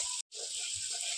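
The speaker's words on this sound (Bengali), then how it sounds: "এবার টমেটো কুচি দিয়ে দেবো। একটু হালকা নেড়ে চেড়ে দিতে হবে।" Chopped tomato sizzles in a hot frying pan of village-style red country chicken, giving a steady, bright hiss of frying that cuts out for a split second, then carries on evenly, close and alone.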